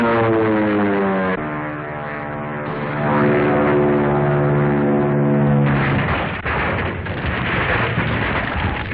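Propeller airplane flying overhead in a 1940 serial, a loud, steady droning engine with shifting pitch that swells and fades as it passes, with no talking.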